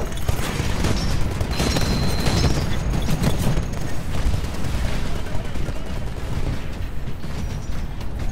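Dense, continuous gunfire in the video game Titanfall, with loud rapid shots and booms layered into a steady barrage that runs throughout, and no clear talking over it.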